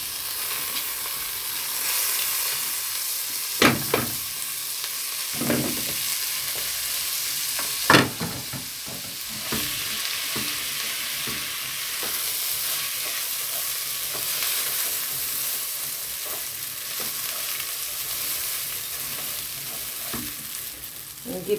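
Washed rice goes into a pot of toasted vermicelli for Egyptian koshari, sizzling steadily while a spoon scrapes and stirs in scattered knocks across a long stretch with no talking.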